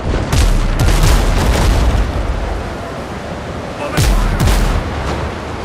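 Ship cannons fire in the naval sailing game Windrose, loud deep booms in two clusters over a constant rumbling roar. No one speaks.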